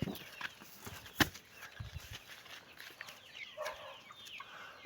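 Chicks and chickens cluck and peep in a garden, scattered calls near and far over faint background noise.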